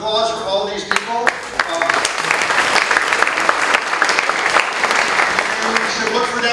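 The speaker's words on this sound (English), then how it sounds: "Thanks for the round of applause for all these people." A film festival opening-night audience applauds steadily, a dense sustained wash of clapping that rises quickly and holds close and loud throughout.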